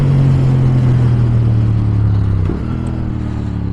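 A Yamaha R7 motorcycle engine holds a loud, steady drone on the throttle through a corner, then the note drops and eases off near the end, heard close from the rider's position.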